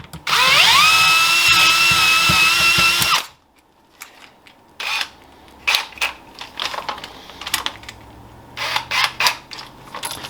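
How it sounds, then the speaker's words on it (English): A power drill with a small bit, drilling into birch wood, whines at high speed for about three seconds, then stops, followed by scattered clicks, taps and handling noises nearby. "Because this is a small drill bit for a number 6, it gets clogged with chips"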